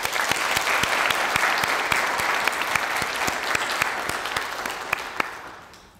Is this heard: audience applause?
yes